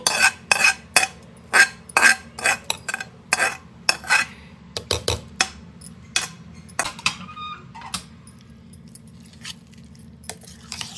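Fermented leftover rice is mixed in a vessel, giving close, sharp metallic scrapes and clinks of a spoon in quick irregular bursts. The strokes thin out toward the end, with a faint chirping in the background.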